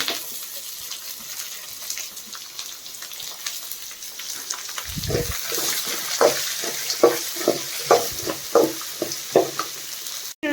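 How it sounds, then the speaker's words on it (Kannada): Chopped onions dropped into a hot pan for a tamarind gojju, giving a steady sizzle with repeated stirring scrapes, close and moderately loud, with no talking. "ಈಗ ನಾನು ಕಟ್ ಮಾಡ್ಕೊಂಡಿರೋ ಈರುಳ್ಳಿನ ಹಾಕ್ಕೊತಾ ಇದ್ದೀನಿ."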